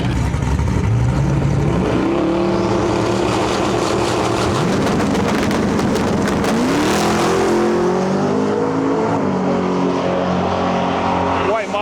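A GTO and a Fox body Mustang launch side by side at a drag strip, loud engines roaring and revving up through the gears close by, with a commentator talking over the noise.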